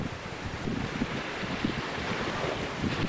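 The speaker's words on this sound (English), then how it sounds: "Wind is about 10 to 15 miles," Steady wind of about 10 to 15 mph rushes across the microphone in a continuous broadband roar with low gusty rumbles near a full-size vertical-axis wind turbine kit, no voices present.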